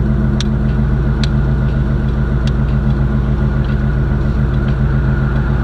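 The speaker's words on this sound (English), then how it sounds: "Even at idle, this car sounds so good." A Box Chevy's engine idles steadily with a low, even rumble and no other sounds, holding the same pitch throughout.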